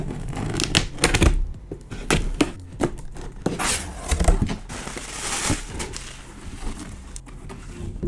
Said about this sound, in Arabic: خلينا قبل اي حاجه نفتح البوكس ونشوف ايه اللي جواه